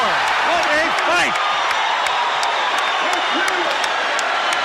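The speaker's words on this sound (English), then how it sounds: "The crowd is on its feet." A boxing arena crowd roars and applauds at the end of a fight, a dense continuous wall of cheering under loud commentary.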